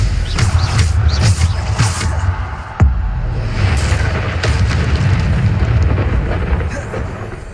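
Bombarda blasting-spell explosions in Hogwarts Legacy rumble as dense, continuous booming with a sharp crack near the middle, sitting under steady game noise with no pauses.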